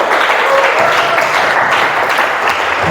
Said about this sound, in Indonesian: Tepuk tangan dulu lah untuk semuanya.